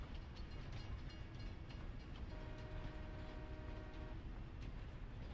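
A steady hum and rumble from an old European-style electric train in Farming Simulator 22 runs continuously, with a faint whine rising midway, no talking.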